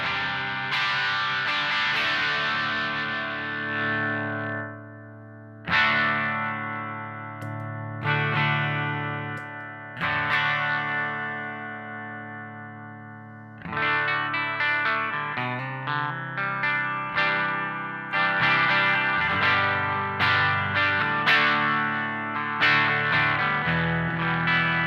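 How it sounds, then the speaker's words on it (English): An electric guitar played through a ProCo Rat distortion pedal set for mild overdrive rings out in sustained chords and single notes, each left to ring, then picks up a quicker, busier strummed passage, up close with no talk. "Does a pretty nice overdrive sound. There's just that little bit of crispiness going on."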